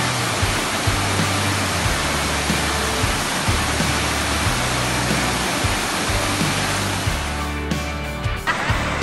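Bampo waterfall in Aceh Tamiang roars as a dense, steady rush of falling water, loud and close throughout, with a low rumble pulsing underneath.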